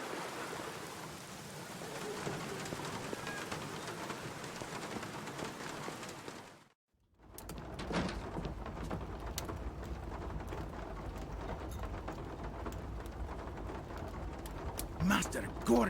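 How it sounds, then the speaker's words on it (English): Steady rainfall hisses throughout The Black Mirror adventure game, broken by a brief silent gap before resuming, with faint bird coos and distant rumbles mixed in. "Still raining."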